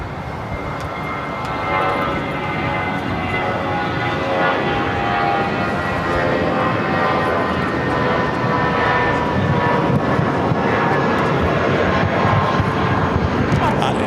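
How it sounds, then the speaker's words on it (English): A Condor airliner takes off from runway 24 left at LAX, a loud, continuous roar of jet engines that holds for the whole stretch, with voices faintly underneath. "Condor heading to the north side would be taking off on the 24 left."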